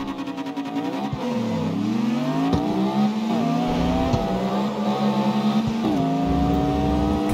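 A Chevrolet Camaro's engine revs hard and steadily in a racing video game, its pitch rising and falling through gear changes, loud and continuous throughout with no talking.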